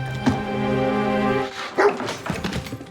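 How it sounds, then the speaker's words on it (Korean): Dog from the Fallout series barking in a few sharp, close yaps and a brief whimpering whine, scattered over a low droning background score. "그는 강아지에게 스팀팩을 주사해 윌지그를 추격하기로 하죠."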